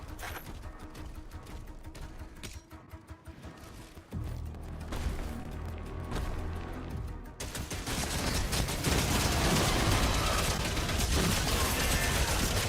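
Gunfire and explosions from the video game Doom: The Dark Ages form a dense, continuous roar of rapid shots and blasts that grows louder and fuller over the last few seconds, with no talk.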